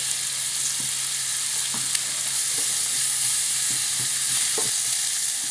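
Chopped onion and garlic fry in oil in a pan, giving a steady soft sizzle with a few faint scraping ticks from stirring. No voices are heard.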